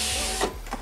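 A Passat B5 rear left door's power window slides down after its regulator is repaired, giving a short, steady electric motor whir that ends with a soft stop.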